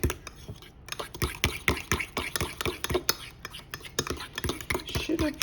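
A spoon stirs a banana, oat and seed cookie mixture, wet and dry ingredients being combined in a bowl, giving close, steady scraping and sticky clicks in a repeating rhythm.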